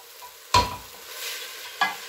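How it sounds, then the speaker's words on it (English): Lentils for lenticchie frying in a pan: a faint steady sizzle runs throughout, broken by two brief scraping stirs of the spoon, close by. "you can see I'm frying it"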